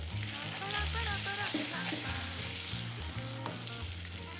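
Fried ghee tempering hits boiling pepper rasam with a loud, continuous sizzle and crackle, steady throughout with a faint stirring rustle and no talk.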